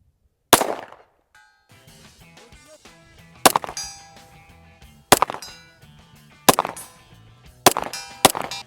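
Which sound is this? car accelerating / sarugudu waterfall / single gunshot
single gunshot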